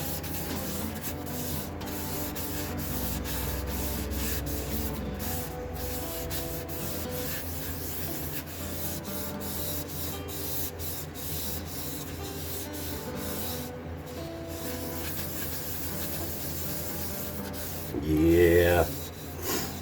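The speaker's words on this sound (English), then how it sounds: "Let's get that buffed in nice and deep. Drive it down into the pores." Steady soft rubbing and buffing as oil and wax are worked into a turned cherry wood bowl, a continuous close hiss with a slightly louder burst near the end.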